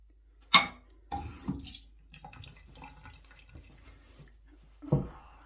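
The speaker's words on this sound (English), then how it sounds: "Dump some water on by accident." Water is splashed and poured while a razor is cleaned and dried, giving short wet splashes and trickles, with a sharp burst near the start and another near the end, close and fairly quiet.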